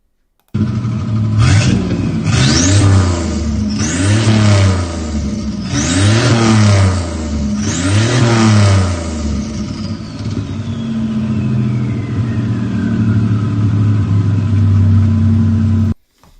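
A car exhaust revs hard five times in quick succession, loud and close, then settles into a steady rumbling idle with a faint whine fading away.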